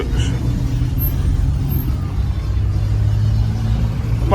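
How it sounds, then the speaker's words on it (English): Heavy road traffic rumbles steadily, with the deep drone of large trucks passing close by and a faint hiss of air brakes near the end. "Big trucks."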